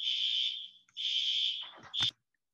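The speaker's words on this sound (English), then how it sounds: "we're still on fire alarm alert" A fire alarm sounds in a lecture hall, its shrill electronic tone blaring in two long bursts and a short final one with brief gaps between.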